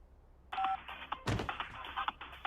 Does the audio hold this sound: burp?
no